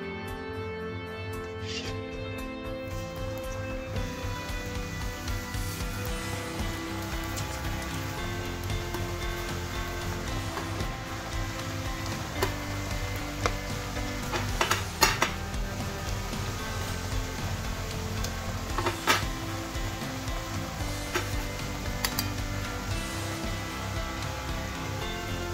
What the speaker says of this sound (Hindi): इसे हमें मीडियम फ्लेम पे ही फ्राई करना है।